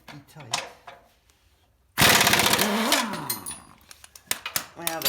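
An impact gun hammers at a tight rear suspension nut on a Mitsubishi 3000GT in one loud, rattling burst of about a second, with a voice talking before and after.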